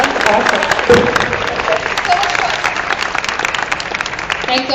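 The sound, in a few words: audience round of applause for the moderator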